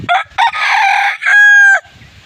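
A rooster crows close and loud, a full cock-a-doodle-doo with short opening bursts and a long sustained final note, alone with no talk.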